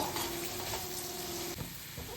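Grated coconut being stirred into pattani sundal with carrot in a pan, a steady soft scraping hiss throughout with a brief clatter near the end.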